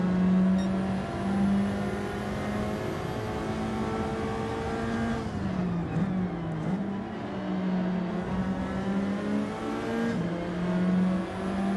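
A race car engine in Gran Turismo 7, a loud steady drone that dips as the driver lifts through a turn and then climbs again while accelerating out, with no talking over it.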